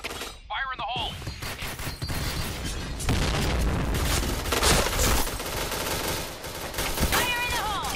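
Rapid bursts of gunfire in the video game Witch crackle continuously with booming explosions, dense and loud throughout, with brief electronic chirps near the start and end.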